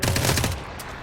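Rapid automatic gunfire from the survival shooter Dysterra, a loud close burst of quick shots that stops after about half a second and leaves a fading tail.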